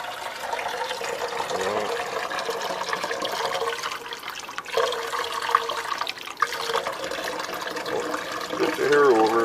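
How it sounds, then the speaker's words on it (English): Tap water runs continuously in a rushing, splashing stream, fairly close, with a few clunks partway through and a voice speaking near the end. "Turn on the running water."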